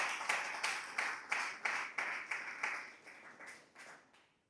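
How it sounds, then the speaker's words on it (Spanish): A church congregation claps in unison as an offering of praise, about a dozen steady, rhythmic claps blending into a reverberant wash, fairly faint and fading toward the end with no talking. "Dame una ofrenda de palmas al Señor con todo el corazón."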